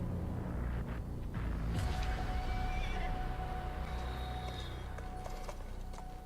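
A horse whinnies in a video game trailer shown at a game conference, a brief neigh rising over a low rumbling score with hoof clops, fairly faint in the mix.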